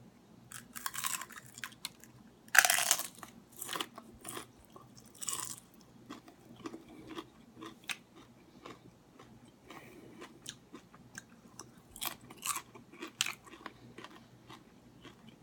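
A fresh cucumber is bitten with one loud crisp snap, then chewed in a run of moist crunches that fade to softer, wetter chewing close to the mouth.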